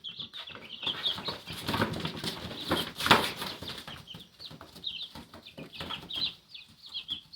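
Baby chicks in a predator-proof chicken coop peep and cluck in busy overlapping bursts, close and fairly loud, with light scratching and a brief flurry of wing flaps.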